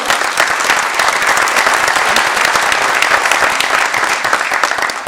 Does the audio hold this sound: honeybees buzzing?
no